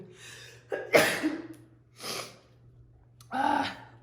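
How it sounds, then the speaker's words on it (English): A single person's sneeze, a sharp sudden burst with breathy intakes and snorts around it, close and fairly quiet, alone without talk. "hold on, I'm gonna sneeze"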